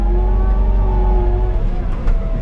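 A wheeled excavator's diesel engine running at a steady, close, loud idle, with a deep constant hum and a faint knock near the end.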